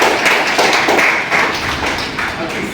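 Classroom applause for a student named Neha Prajapati at a road-safety and drama training session: steady, dense clapping from a group, continuous and fairly loud throughout.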